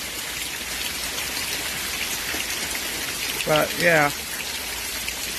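Steady summer rain, the first in about three weeks, hisses evenly throughout, with a voice speaking briefly near the end.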